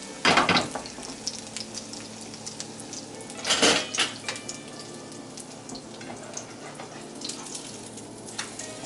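Thin battered beef slices for meat jun (yukjeon) frying in a pan, a steady sizzle broken by a couple of loud clatters of utensils against the pan and quieter clinks.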